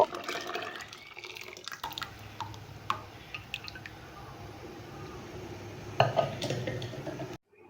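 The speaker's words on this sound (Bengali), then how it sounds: "এখন এই ডালটা আমি এই গরম জলে দিয়ে দিব" Mung dal goes into a pot of hot water and is stirred in a home kitchen. Wet splashes and drips come first, then soft sloshing and a few sharp clinks of the spoon against the pot, close by.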